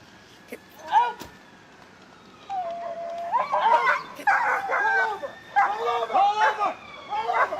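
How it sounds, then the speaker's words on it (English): A dog yelps, whimpers and barks in a tense street arrest scene, its cries rising in repeated bursts over background noise and a distant siren. "Get that dog off of him."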